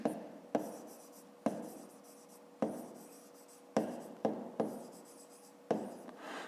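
Pen writing on paper during a fifth-grade maths exercise: repeated short scratching strokes, each starting with a sharp onset and fading, close and fairly quiet, with no talk.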